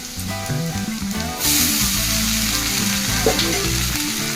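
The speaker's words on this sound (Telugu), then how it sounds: "ఇప్పుడు మొత్తం అన్నీ మంచిగా ఫ్రై చేసుకోవాలి ఒక 1 minute వరకు" Ingredients sizzle steadily in a pan for sabudana (sago) upma, a loud continuous frying hiss, with background music playing throughout and no one talking.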